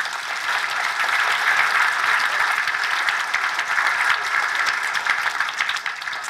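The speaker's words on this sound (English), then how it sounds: "So I want you to give yourselves a round of applause." Audience applause fills the room, a steady dense wash of many hands clapping at even loudness from start to finish, close and sustained with no talk.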